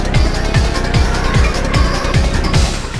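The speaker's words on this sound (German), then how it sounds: "ich höre immer die Motoren hinter mir, das ist voll schrecklich." Racing car engines roar and whoosh from the Need for Speed video game, with repeated swept engine notes cycling about twice a second, loud and continuous with tire-like hiss on top and no talking.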